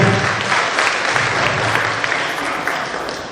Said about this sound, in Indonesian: tepuk tangan buat kami